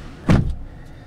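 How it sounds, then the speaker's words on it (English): A single solid thump as the rear door of a 2015 Chevrolet Tahoe 4WD LT is shut, a short close slam with a faint rattle after, then quiet cabin. "Let me shut the door here."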